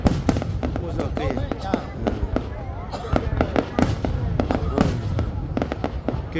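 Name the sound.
New Year 2024 fireworks bursting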